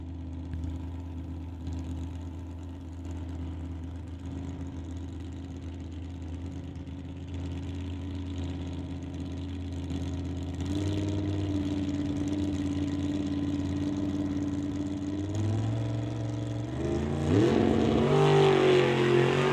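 Two drag race cars, a Nova and a Dodge Dart, idle with a steady low engine rumble at a drag strip, then rev harder, the loud engine noise rising and surging toward the end with no talking.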